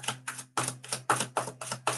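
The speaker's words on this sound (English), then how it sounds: "Cards are shuffled." Tarot cards shuffled by hand in a rapid run of about seven crisp, rasping bursts, evenly spaced and close, with a steady low hum underneath.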